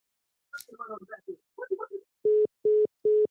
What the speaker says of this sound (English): All right, caller, hung the phone up.